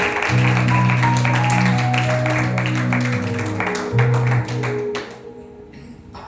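An audience at a Telugu church gathering claps to welcome a speaker, a steady patter of hands over sustained keyboard chords that fades toward the end.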